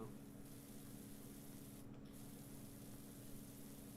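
A wide-nozzle pressure washer in PowerWash Simulator hisses continuously against a surface, a steady rushing spray over a low hum that briefly drops out for a moment midway.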